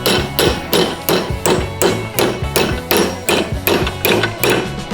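Hammer pounding set concrete out of a welded steel bash bar on a 224cc go-kart, loud close metallic blows in a steady rhythm of roughly two strikes per second, continuing throughout.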